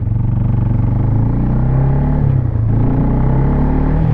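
Loud and close, a 2001 Yamaha Bear Tracker 250 ATV engine drones with a steady rumbling idle and a brief shift in pitch partway through, running smoothly without any break.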